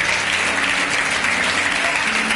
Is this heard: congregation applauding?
yes